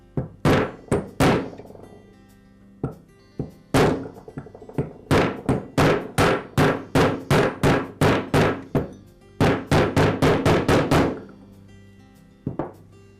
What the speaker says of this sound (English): I'll slide it into the motor housing and then use a socket the same diameter as the outer race, or just slightly smaller, and I'll tap it in with a mallet